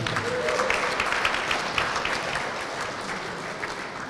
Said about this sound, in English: A round of applause for Miss Kara Wesley.